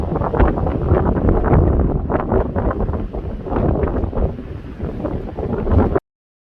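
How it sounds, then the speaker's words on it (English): Strong gusty wind buffeting the microphone on a San Jacinto mountain trail along the Pacific Crest Trail, a loud continuous roar with surging bursts that cuts off abruptly, no talking. "this wind is seriously no joke"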